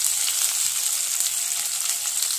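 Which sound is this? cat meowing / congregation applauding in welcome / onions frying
onions frying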